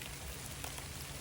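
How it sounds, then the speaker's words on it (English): Heavy rain falling outdoors, a dense, even hiss of drops pattering on surfaces, faint and steady with no voices. "rain's getting heavy"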